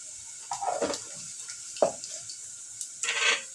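Onion, cumin and mustard seeds hit hot oil in a home kitchen, giving short sizzling bursts and spits that rise and fade in a few separate spurts over a quiet background, with no talking.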